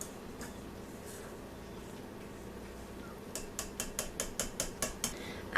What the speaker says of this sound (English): Since we're not using the paddle attachment, I'm going to give this a quick whisk